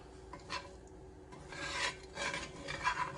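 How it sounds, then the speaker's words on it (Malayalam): A spoon scraping and stirring Kerala chicken roast with coconut pieces in a pan over a low flame: soft, uneven rasping strokes close up in a few brief bursts. "ഇത് ലോ ഫ്ലെയിമിൽ ഇട്ടിട്ട് നന്നായിട്ട് ഇളക്കി കൊടുക്കണം."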